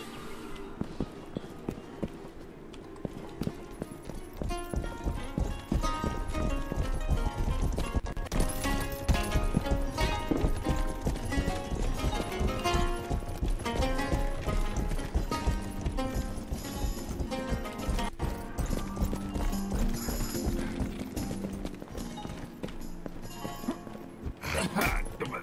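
Horse hooves clip-clopping at a run in the video game Rustler, a steady fast beat under continuous game music and effects, with a whinny mixed in partway through.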